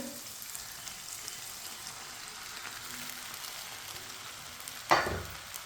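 Rice tipped into a pot of spices frying on the stove, with a steady low sizzle throughout and one sharp clatter-and-hiss burst near the end as the grains land.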